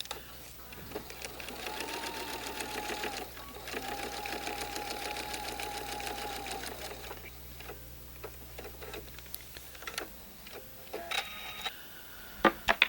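Sewing machine stitching a quilt block, a fast continuous needle rattle that runs steadily, pauses briefly, resumes, then breaks into short stops and starts near the end.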